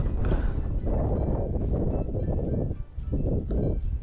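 Strong gusty wind buffets a microphone outdoors at a freshwater crucian carp fishing spot, with loud, uneven rumbling bursts and brief lulls.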